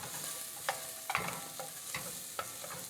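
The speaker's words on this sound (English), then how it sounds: "You can hear the sizzle start to go away." Vegetables sizzle steadily in a pan, with a few light clicks and scrapes of stirring on top of the hiss.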